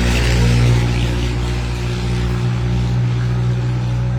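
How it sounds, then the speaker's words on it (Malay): A loud lorry going past, heard as a heavy, continuous engine roar and rumble that fills the whole stretch with little change in level. "Bunyi macam ribut, lari macam siput. Itulah dia, lori."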